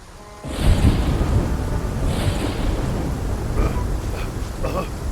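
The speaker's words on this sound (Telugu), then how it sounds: "వాన వేరే ఎక్కువ వస్తూ ఉంది" Heavy cartoon rain pours steadily after a sudden onset, with low rolling thunder rumbling through the downpour in an animated forest scene.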